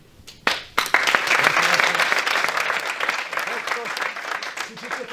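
Wisła Płock players applaud in the dressing room after their match against Chrobry Głogów: a few sharp opening claps swell into dense, sustained clapping that carries on loud and close to the end, with voices mixed underneath.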